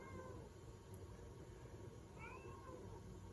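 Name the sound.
cat meowing in the background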